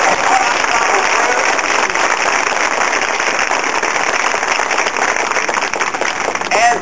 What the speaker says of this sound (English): so let's have some applause right here.